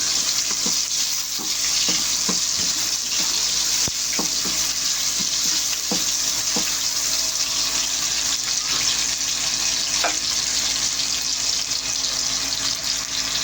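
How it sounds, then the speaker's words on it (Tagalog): Ginger and leek leaves fry in oil for chicken in coconut milk with papaya, giving a constant bright sizzle while a spatula stirs, knocking and scraping the pan in a brief run of taps near the start, then the frying continues steadily alone. "Ba-brown lang natin yung ating luya."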